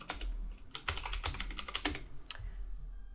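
Keys clack in quick bursts on a computer keyboard as a password is typed into OpenWRT on a Raspberry Pi 4, close and fairly loud, with a pause near the end, and no talking.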